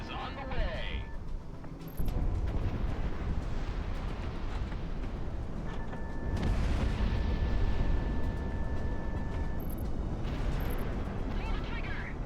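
Explosive rumble from an incoming missile in the aerial combat game Project Wingman: a loud, dense roar that kicks in after a brief lull and keeps booming heavily, with bright whistles and a tone above it.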